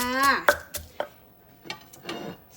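Green papaya salad with garlic is pounded in a mortar, a few sharp, close thuds spaced unevenly among brief bursts of a voice.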